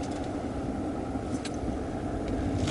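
A 2019 Ram pickup truck drives along while towing 6,000 pounds, giving a steady low engine and road rumble heard from inside the cab, with no talking.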